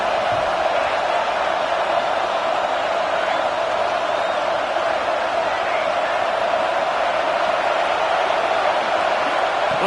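Football stadium crowd at a Penn State versus Texas Tech game, a steady loud roar of cheering and noise that holds constant throughout, filling the space without a break.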